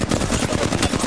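Rapid automatic gunfire in Apex Legends, a dense run of loud, close shots firing in quick succession with no pauses across the short burst.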